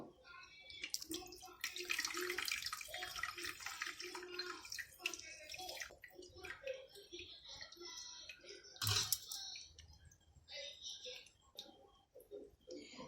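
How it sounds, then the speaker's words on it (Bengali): Fresh chhana (cottage cheese) being squeezed by hand to press out excess water, with wet squelching and splashing, dripping water, a sharp knock partway through, and voices talking at times. "ছানার মধ্যে যে অতিরিক্ত জলটা আছে সেই জলটাকে চিপে আমি ফেলে দেব"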